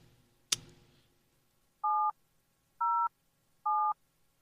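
Three evenly spaced telephone keypad dialing tones, each a short steady beep, place a call to a radio show listener, following a sharp click; clear and alone, with no talk.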